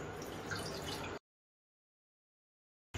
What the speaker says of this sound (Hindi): इसमें हम ऐड करेंगे 2 गिलास पानी